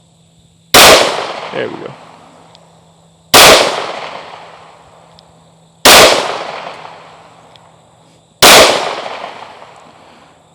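Four loud, sharp gunshots from a Springfield Hellcat Pro Comp pistol, evenly spaced a few seconds apart, each ringing out and fading. A brief spoken voice comes between shots.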